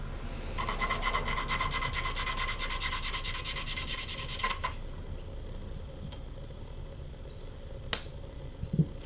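Valve being lapped into a Honda CB125 cylinder head with coarse lapping compound: steady gritty rubbing and scraping, fairly faint and close, with a few small clicks near the end.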